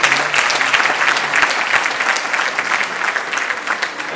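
An audience applauds a singer with loud, dense, continuous clapping that holds steady for several seconds before easing slightly at the end.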